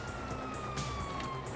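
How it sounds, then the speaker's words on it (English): Police sirens in a video game, a faint wailing tone drifting slowly downward under a low rumbling background, with no voices. "You hear that? Sirens!"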